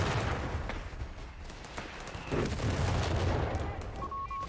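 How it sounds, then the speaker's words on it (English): Mortar fire and other battle noise in the video game Company of Heroes 3, with British forces in a 4v4 match, a dense continuous rumble of shells and gunfire, loud and up close. "Let's just see them pound this area with those mortars."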